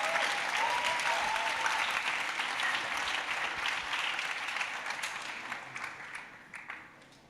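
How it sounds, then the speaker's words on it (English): Audience at a design showcase event applauds steadily for about five seconds before the clapping thins out and fades to scattered claps. "you can all clap your hands for Nikita"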